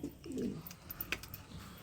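Breeding pigeons coo once, close and clear, in a short, soft, throaty burst with no talk.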